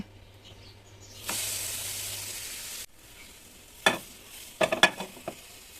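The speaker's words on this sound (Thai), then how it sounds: "แพนเค้กเริ่มร้อนด้านล่างแล้วนะคะ เราจะมากลับด้านกัน" An orange pancake sizzles loudly in a hot frying pan, then a spatula scrapes and taps against the pan in a few quick clicks as it's flipped.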